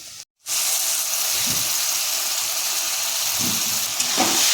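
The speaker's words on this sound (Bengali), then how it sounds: "জিরে গুঁড়ো দেবো ধনে গুঁড়ো দেবো জল দেবো মশলাটাও ভালো করে কষে নেব তেল ছাড়া অবধি" A wet paste of ground cumin, coriander and water fries in oil in a pan for a pomfret fish curry. After a brief silence it gives a loud, steady hiss and sizzle, with a few soft stirring bumps.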